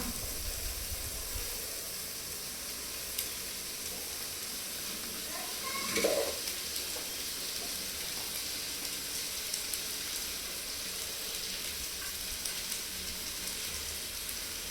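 Vegetable hakka noodles being stir-fried in a pan, a faint steady sizzle with a brief stirring scrape midway.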